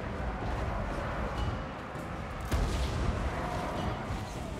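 Dwarf artillery in Total War: Warhammer 3 booms over a dense battle din, one sharp heavy blast standing out midway, with scattered fainter thuds around it.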